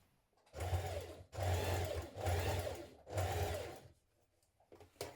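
Sewing machine stitching a sweatshirt sleeve band in four quick bursts, each a second or so of fast, close whirring stitches, separated by brief pauses, with a short final start at the end.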